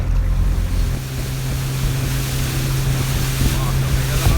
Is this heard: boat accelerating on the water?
yes